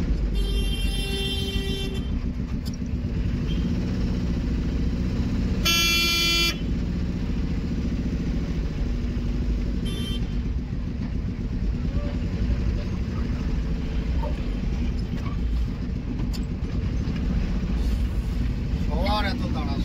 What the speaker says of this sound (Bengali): বিশাল জ্যাম লেগেছে, জ্যাম পড়েছে দেখতেই পাচ্ছেন